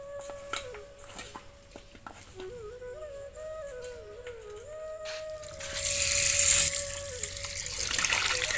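Raw broiler chicken washed by hand under running water in a home kitchen: a quiet patch first, then a louder, steady gush of water in the second half.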